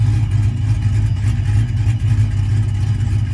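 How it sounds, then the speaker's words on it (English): A Ram R/T truck engine fitted with a custom Texas Speed Enforcer boost camshaft runs with a deep, lumpy rumble, holding a steady loud drone close by, with no voices over it. "This is his boost cam called the Enforcer Cam."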